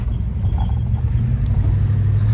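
A 1967 Chevrolet Impala SS convertible cruising along a road, its engine giving a steady, close, low rumble with road noise and no voices.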